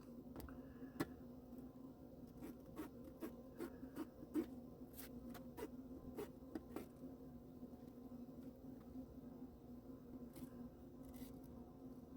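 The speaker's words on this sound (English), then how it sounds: "I want y'all to hear it cut this steel belting" A Rosecraft Tarcanis knife stabs and slices into the steel belting of a worn, heavily cut tire, making a run of sharp, quiet ticks and snicks over a steady low hum, with no talk.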